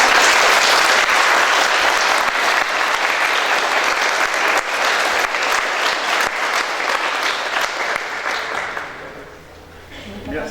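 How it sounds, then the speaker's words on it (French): Sustained audience applause at the Miss Oise 2023 gift ceremony, dense and steady clapping filling the room for several seconds before thinning out toward the end. "on peut applaudir tous les intervenants, les partenaires de notre élection du fond du cœur"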